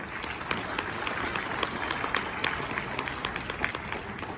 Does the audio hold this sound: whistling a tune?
no